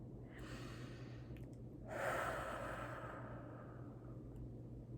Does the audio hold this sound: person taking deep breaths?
yes